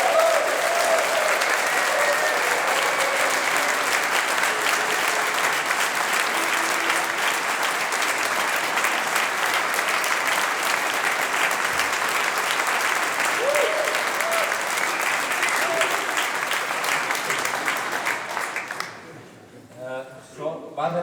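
Sustained audience applause at a concert, a dense wash of clapping from a large crowd that holds steady for most of the stretch before fading out near the end.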